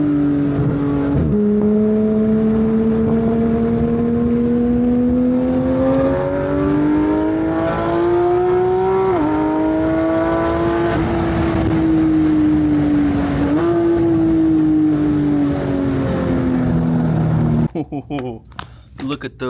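A loud, close Porsche 991.1 GT3 RS with an iPE exhaust revs hard in long sustained pulls, its droning pitch climbing and dipping repeatedly before cutting off near the end.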